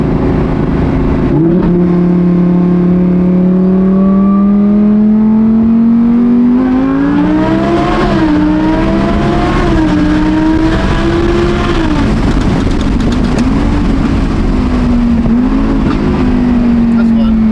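A supercharged Audi R8 at the TX2K racing event surges forward at full throttle, its loud engine note climbing and wavering steadily with no pause throughout.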